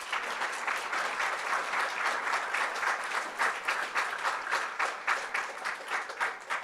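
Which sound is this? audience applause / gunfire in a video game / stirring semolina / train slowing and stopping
audience applause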